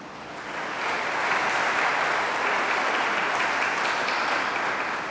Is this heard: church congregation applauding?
yes